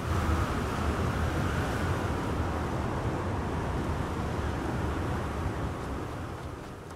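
Strong wind blowing in the Star Wars Outlaws video game, a loud, continuous roaring rush with no voices over it, easing slightly toward the end.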